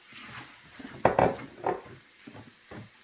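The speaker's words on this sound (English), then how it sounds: "And stir them up properly." Chopped tomatoes are stirred in a Saladmaster pot with a spoon, giving a few soft scraping and clinking strokes against the metal, loudest in a brief burst near the middle, then quieter scrapes.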